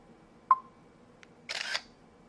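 A digital camera's shutter fires once, a sharp click followed by a brief mechanical whirr, close and clear against a quiet room with no talking.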